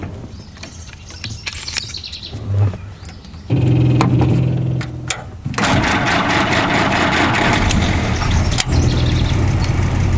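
A Jeep engine cranks and catches, then settles into a loud, steady idle close by, with birds chirping in the background before it fires.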